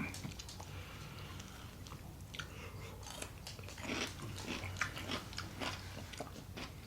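Close-up mukbang chewing of a Panera sandwich with pickles, with moist bites and crunchy mastication repeating steadily over quiet room noise.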